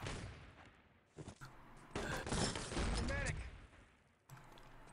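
Rifles trade fire in the shooter Enemy Territory, with bursts of rapid gunshots and clattering shots layered over a game's ambient mix, while a commentator talks over the action.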